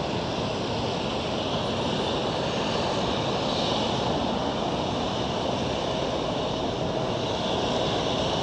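An Aer Lingus airliner at LAX airport produces a loud, steady roar that fills the whole stretch without a break.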